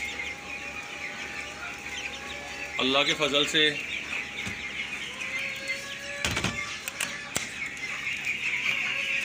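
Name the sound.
hen and chicks clucking and chirping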